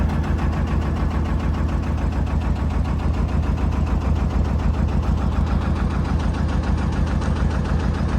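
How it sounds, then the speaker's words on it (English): A narrowboat engine runs loudly and steadily at close range beside a canal lock, a continuous rapid diesel chugging with no letup for the full eight seconds. "Cool, Rob's boat doesn't half make a racket."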